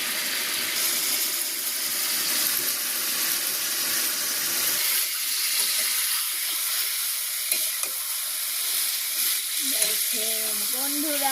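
A village home kitchen where vegetable curry is sautéed in a pan with a little water: a continuous hissing fry runs throughout, with the occasional soft stir, growing slightly quieter and more bubbly toward the end.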